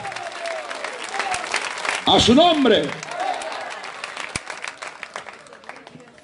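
A congregation breaks into a short burst of applause mixed with cheering voices, rising over a preacher's amplified speech before fading back under his talk.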